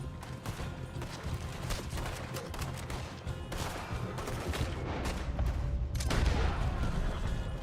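Heavy gunfire in Red Dead Redemption 2, an action shootout with dense overlapping shots and bursts rattling continuously for several seconds, growing a little louder toward the end.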